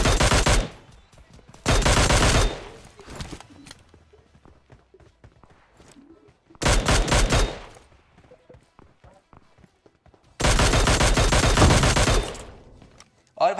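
Rapid bursts of automatic gunfire and shotgun blasts in the mobile shooter Battlegrounds Mobile India, four loud clustered volleys separated by quieter stretches with footsteps and faint game sounds.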